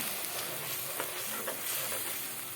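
Spice paste frying in a pan sizzles steadily after a splash of water is added, a dense continuous hiss with faint stirring clinks, close and fairly loud with no talking.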